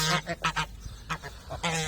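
A Çorum goose on a farm honks loudly and close by in a run of harsh, nasal calls, some short and some drawn out, with brief pauses between bursts.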